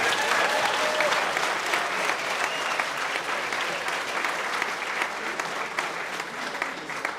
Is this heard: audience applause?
yes